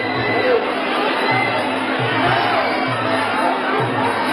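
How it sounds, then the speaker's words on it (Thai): A Muay Thai stadium crowd cheering and roaring steadily during a bout, with rhythmic rising chants of fans pulsing through loud, dense crowd noise. "แฟนมวยเริ่มเชียร์แล้วครับ"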